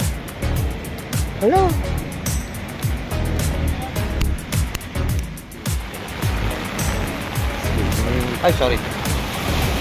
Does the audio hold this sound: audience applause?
no